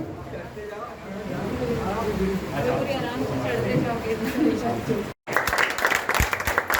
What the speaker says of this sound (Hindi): तालियों से जोरदार स्वागत कीजिए।